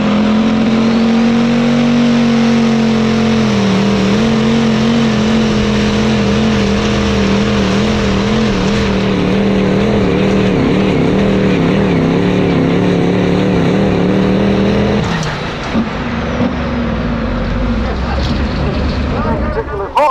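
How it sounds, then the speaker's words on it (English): A pro stock diesel pulling truck spools up at a pulling event, its loud, sustained engine drone wavering in pitch and then dropping sharply near the end before surging again. "That's pretty cool watching him spool that thing up."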